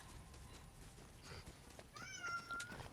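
Faint meow from a cat, a short rising cry heard quietly over background noise.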